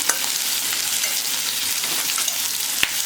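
Onions fry in a pan with a loud, steady sizzle close up, while a utensil stirs through them, ending on one sharp tap.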